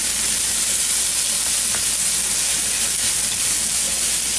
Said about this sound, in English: Now we're gonna add the vegetables. Add the vegetables. And just mix all them in very well.